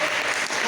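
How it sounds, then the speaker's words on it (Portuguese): A church congregation applauds loudly during a worship service, a dense, steady wash of clapping with no pauses over a short burst. "E você que aplaude e glorifica Ele, aplauda forte"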